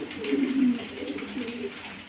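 Fancy pigeons, a cream bar beauty homer pair, coo softly and steadily nearby in a low rolling murmur with no talk over them.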